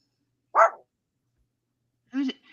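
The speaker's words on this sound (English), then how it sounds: "I hear a dog." A dog barks twice, well apart, with a sharp first bark and a rougher second one, against a quiet background.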